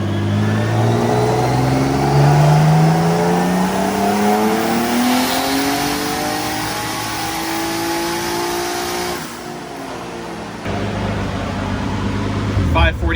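A car on a dyno, its engine revving up in one long pull with a sharply climbing pitch, loud and sustained, then dropping off abruptly, with talking underneath.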